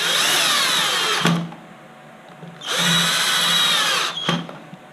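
A power drill drives screws into a gearbox in two short bursts of high, whining motor with a brief pause between them, close and loud.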